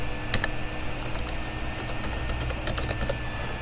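Fast bursts of keystrokes on a computer keyboard as a password is typed, crisp clicks in quick irregular runs close to the microphone, no talking.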